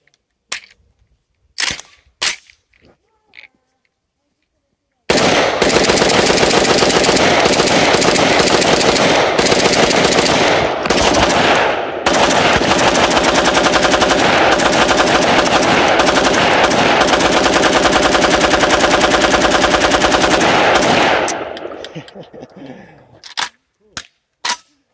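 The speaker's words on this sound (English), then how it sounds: "I think it's time for some rapid fire." Rapid fire from a Vepr rifle: after a few single loud shots comes a sustained roaring stream of fast, close, very loud gunfire for about fifteen seconds, then trailing echoes and a couple of final shots.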